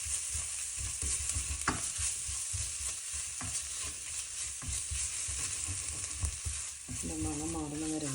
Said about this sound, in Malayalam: മണം മാറുന്ന വരെ ഒന്ന് ചെറുതായിട്ടൊന്ന് മിക്സ് ചെയ്യാം